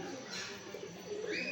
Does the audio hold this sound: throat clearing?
no